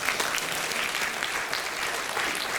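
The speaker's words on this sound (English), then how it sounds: "And then also let's clap." A group of women at a regional ladies' day celebration clapping together, dense steady applause-like patter filling the space for a few seconds.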